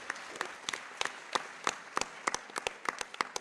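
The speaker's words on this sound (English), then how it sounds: "you can clap for each one." Small audience at a Medicare for All town hall claps in sparse, uneven bursts, individual hand claps standing out quietly against a soft room background.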